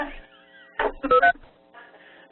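Several quick electronic beeps from phone keypad presses, a few in a cluster, over faint tonal background sounds.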